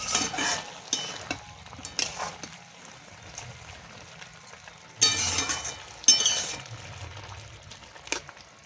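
A broccoli chicken stir fry with a little sugar simmers in a pan, giving a soft bubbling hiss with occasional spoon clinks and two louder bursts of stirring or spatter, close up and without voices.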